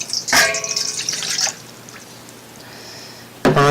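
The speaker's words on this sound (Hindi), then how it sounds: "फिर सबसे पहले हम इसमें पानी डालेंगे।" Water is poured into a pot to start making a homemade shampoo: a loud splashing gush opens, trails off into quiet drips, then another sharp splash of liquid lands near the end.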